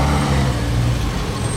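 A V8 car rolls past in Monaco street traffic, its deep engine rumble loud and close, holding steady for a brief moment with no voices over it.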